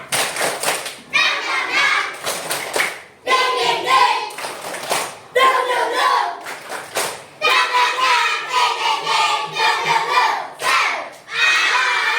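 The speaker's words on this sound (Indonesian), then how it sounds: "Tepuk semangat." A classroom of children performs rhythmic spirit clapping, loud bursts of patterned claps in groups separated by short pauses, mixed with children chanting and shouting along in unison.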